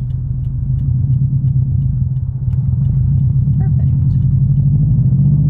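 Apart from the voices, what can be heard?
Subaru STI manual car driving slowly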